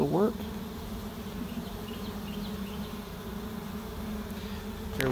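A wild honey bee swarm, caught and now being unboxed, hums in a faint, even drone, with a brief voice-like sound at the start and end.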